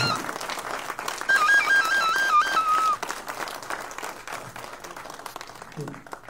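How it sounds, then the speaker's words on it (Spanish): Audience applause at a council of elders gathering in San Diego Chalma, with clapping across the opening seconds, a whistle-like tone riding over it, then thinning out as voices take over. "un aplauso a los compañeros que hacen el esfuerzo de estar hoy por aquí con nosotros"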